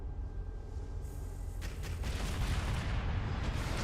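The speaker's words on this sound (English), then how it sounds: "That anti-air cannon of the Evo coming in very handy right now." A naval anti-air cannon in the Modern Warships game fires during a tournament battle. A dense, roaring burst of rapid gunfire swells in after a quieter rumble and stays loud to the end.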